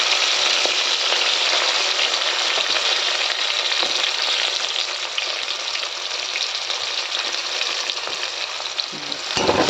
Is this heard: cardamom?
yes